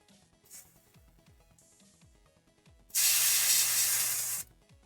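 An airbrush sprays paint onto a Warhammer model of Vashtorr the Arkifane in one loud, steady hiss lasting about a second and a half, set against faint background music.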